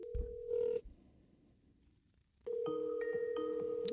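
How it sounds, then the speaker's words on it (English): A telephone rings on an outbound call placed through a local private branch exchange (PBX), a steady electronic ring tone sounding briefly, pausing, then returning for a sustained ring with a louder, harmonically rich tone. "And the phone is now ringing."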